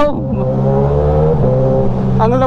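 Suzuki GSX-S1000 150 hp motorcycle with a freshly cleaned air filter and a new reflash, its engine revving loud and close, holding a throaty tone before a sharp rising blip at the end.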